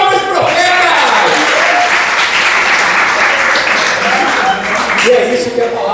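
An audience in a church gathering claps for the prophets, sustained dense applause filling the room, loud and steady, with voices calling out faintly beneath it.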